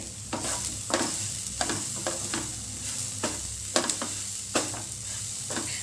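Turmeric is stirred into green peanut chevda in a pan; evenly spaced scraping strokes sound over a soft, constant sizzle, near and fairly quiet.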